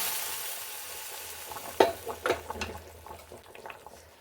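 A soft hiss gives way to a few sharp sizzling bursts as a tempering drops into hot oil for Mangalore cucumber sambar, then crackles quietly.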